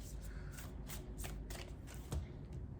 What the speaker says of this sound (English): Let's get one more card from the Moonology Oracle deck.